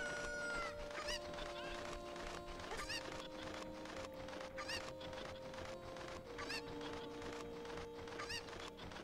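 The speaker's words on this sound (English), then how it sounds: "Just focus on the chickens." Chickens cluck and squawk repeatedly in The Legend of Zelda: Ocarina of Time, busy game sounds layered over steady background music at a moderate level.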